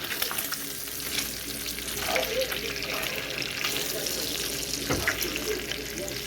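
Bacon frying in a pan, crackling and sizzling steadily and up close, with a couple of louder pops and some clatter from handling the pan.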